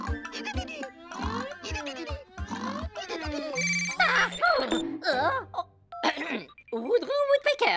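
A cartoon telephone rings in Woody Woodpecker, its bursts of repeated tones alternating with lively animated character voices, chatter and short musical stings; the ringing is clearest in the opening seconds.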